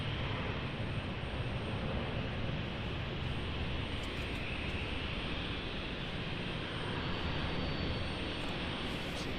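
An airplane taking off toward the southwest at Raleigh-Durham International Airport, heard as a continuous broad engine roar that holds fairly even and distant throughout, with no talking.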